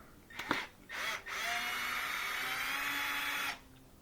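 A power drill-driver backs out the Phillips head screws holding a porch light plate, with short starts and then a steady, close whirring run that lasts a few seconds.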